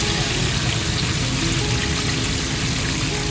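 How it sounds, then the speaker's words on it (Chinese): Banana fritters deep-frying in hot oil, a dense continuous crackle and sizzle holding steady and fairly loud throughout, with no voices. "耐心炸到表面慢慢转成漂亮的金黄色"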